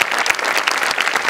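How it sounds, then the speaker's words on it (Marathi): An audience at a Marathi comedy stage show bursts into loud, dense clapping, a continuous burst of many hands close up that lasts only a moment. "जोरदार टाळ्या या तिघांसाठी."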